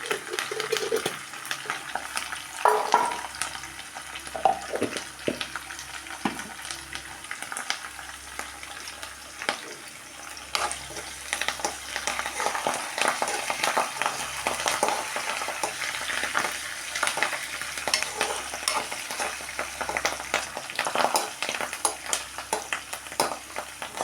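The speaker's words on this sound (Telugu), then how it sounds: "ఉల్లిపాయ, పచ్చిమిరపకాయ, తాలింపులు కూడా అయితే వేగిపోయినాయి కదండి" Onion, green chili, cumin and curry leaves frying in a tempering for a village-style pachi pulusu, a steady close sizzle with occasional stirring scrapes running alone throughout.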